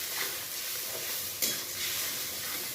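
Poppy seed paste with turmeric and a pinch of salt is stirred in a pan for potol posto, giving a soft continuous sizzle with a brief scrape near the middle and no talking.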